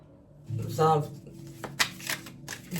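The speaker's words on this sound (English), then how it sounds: "You can fast forward when I shuffle because I don't take the cards." Tarot cards being shuffled by hand during a Scorpio tarot reading: quick riffling bursts of paper flicks close to the microphone, mixed with a person talking.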